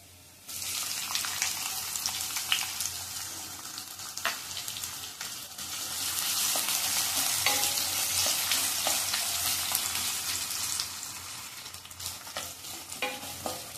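Finely chopped onion frying in a pan for palak paneer, a soft continuous sizzle with occasional stirring clicks, close and steady, swelling slightly midway before easing, with no talking.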